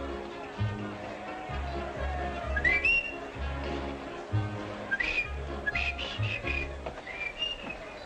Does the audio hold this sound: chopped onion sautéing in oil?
no